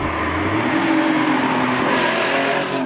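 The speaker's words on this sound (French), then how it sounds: "ça c'est un bon moteur atmosphérique" A naturally aspirated Porsche 911 Carrera engine with a full straight-through exhaust revs hard and loud, its rising, raspy roar held close by for a few seconds without any talking.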